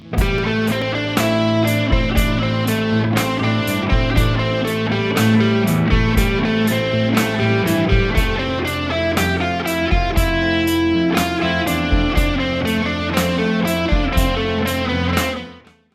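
An electric guitar solo plays a continuous stream of quick notes with no pauses, steady and loud throughout.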